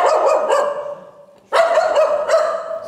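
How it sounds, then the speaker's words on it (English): A dog barks repeatedly, sharp loud yaps in quick bursts, pausing briefly before another run of barking, close by with no talking. "otherwise we're rewarding her for the barking."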